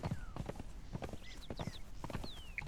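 Horse hooves clip-clop at a steady walking rhythm in the video game Conan Exiles, close and moderately loud among scattered game effects and a faint chirp, with no talking.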